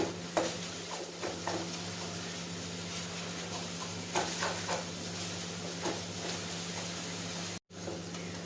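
A kalakand mixture is stirred continuously in a pan, giving a steady sizzling hiss with soft scraping strokes that recur throughout, close and moderately loud, broken by one brief silent gap near the end.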